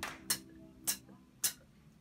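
A voice imitates a hi-hat with three crisp, short hissing ticks at steady intervals, close and quiet with nothing else behind them.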